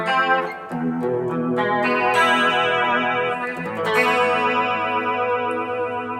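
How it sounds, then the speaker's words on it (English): An electric guitar through an Axe-Fx III phaser plays sustained clean chords, its swirling, sweeping wipe tone sliding continuously as chords change, loud and upfront. "And then we have another phaser block"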